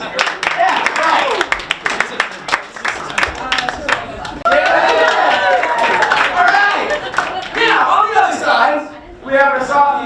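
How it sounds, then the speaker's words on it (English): Audience at a team competition breaks into lively clapping and cheering, a dense burst of applause with whoops and chatter, broken by brief pauses and voices talking over it. "it's a round of applause"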